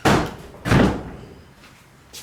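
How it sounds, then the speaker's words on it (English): A door is shut twice in a room, two sharp loud thuds in quick succession followed by fainter knocks as it settles. "Shut that door because it's making a creaky noise"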